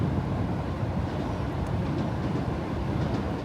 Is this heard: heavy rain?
no